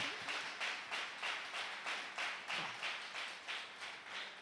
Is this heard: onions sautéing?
no